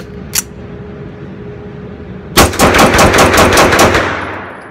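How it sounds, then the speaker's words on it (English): A Springfield Armory Range Officer 9mm 1911 pistol fires eight rounds in rapid succession, loud and close, the sharp cracks closely spaced and ringing out briefly after a faint earlier click. "Next is eight rounds rapid fire."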